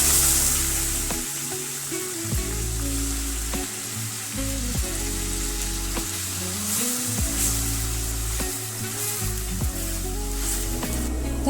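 Chopped onion sizzles steadily in hot oil in a pan for prawn biryani, a constant close frying hiss with occasional stirring clinks and no talking.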